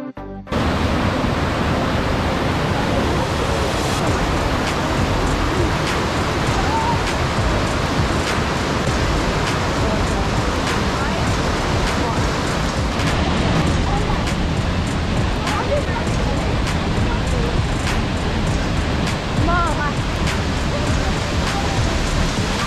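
Cherokee Falls in Cloudland Canyon State Park, Georgia, surrounded by ice in January, pours in a continuous loud roar of rushing water. The sound is dense, steady and close for the whole stretch.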